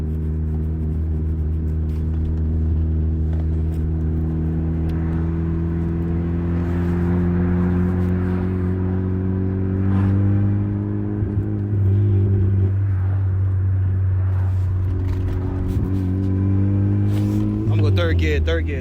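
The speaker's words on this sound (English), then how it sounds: "I'm gonna go third gear. See how much boost in third." Turbocharged Honda Accord with a K24Z3 engine accelerating, a steady loud droning engine note climbing slowly in pitch over the drive, heard from inside the car with a brief shift near the end.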